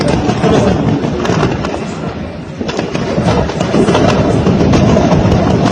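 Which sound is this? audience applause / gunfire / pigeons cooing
gunfire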